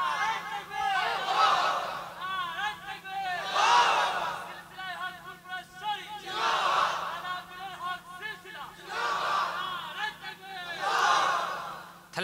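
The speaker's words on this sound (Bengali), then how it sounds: "তাকবীর মারো দেখি।" Crowd at a Bengali waz sermon shouting the takbir in repeated loud collective bursts, about four waves of massed voices rising and falling in a steady call-and-response rhythm.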